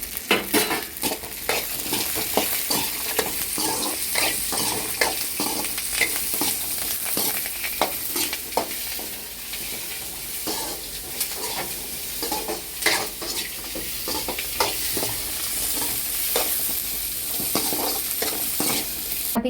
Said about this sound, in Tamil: இது கூட வந்து நம்ம இஞ்சி, பூண்டு, தக்காளி பழம், அப்புறம் பார்த்தீங்கன்னா புதினா, கருவேப்பிலை எல்லாத்தையும் சேர்த்து வதக்கிக்கலாம்.